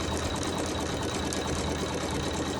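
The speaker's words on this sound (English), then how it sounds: "in this step, it's going to sew a zigzag stitch to hold the wool in place" An embroidery machine sewing a zigzag stitch to hold wool appliqué in place: a steady, close mechanical whirr with a fast, even needle rhythm, unbroken and alone.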